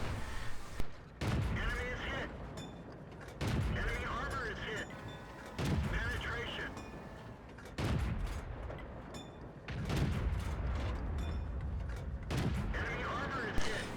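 Tank cannons fire in a World of Tanks battle on the Tundra map. Heavy booms land about every two seconds, each followed by a rumbling decay, with faint game sounds between shots.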